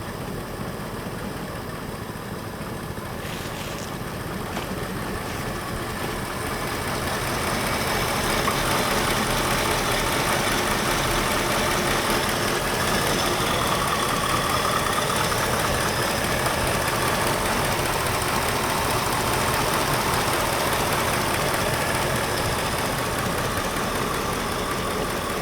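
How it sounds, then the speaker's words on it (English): A Ford Mustang Cobra, abandoned for 27 years, idles steadily and quietly alone, a continuous mid-pitched engine drone that swells slightly after the first few seconds and holds even to the end. "I cannot believe this car's idling that long."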